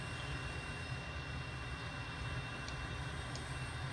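An M-346 jet taxiing in Microsoft Flight Simulator at an air base in Guam gives a steady, faint engine drone with a continuous low rumble and no speech.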